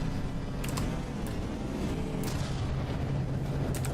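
Artillery barrage in the naval combat game From the Depths: a dense, continuous low rumble of distant booms with a few sharper cracks, steady and unbroken throughout.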